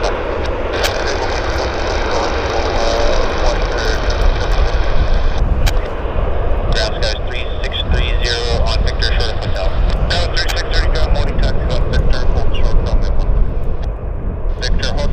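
Airplane landing at Vancouver Airport, a loud sustained engine roar rumbling at a distance, buffeted by heavy wind noise, with people talking over it.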